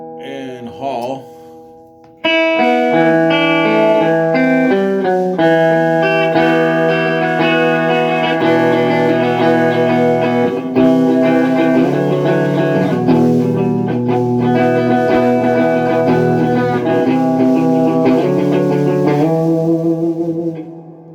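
After a short opening fragment, an electric guitar plays sustained chords and notes through an Orange CR120 amp set to hall reverb, loud and continuous with a spacious, washing decay.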